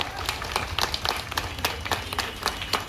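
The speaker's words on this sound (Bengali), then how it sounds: "তন্ময় ঘোষকে একটা জোরে করতালি।" A crowd at a roadside political rally claps in support of a candidate, loose separate claps falling at an uneven rhythm over a murmuring outdoor background, moderately loud and close.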